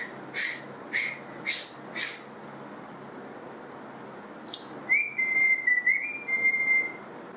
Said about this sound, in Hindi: जैसे कि मैंने सीटी मारनी सीख ली